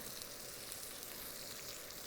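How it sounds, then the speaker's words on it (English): Food sizzles steadily on a hot pan while making lasagna soup, a continuous close frying hiss with no talk over it. "You can hear it sizzle already, yummy."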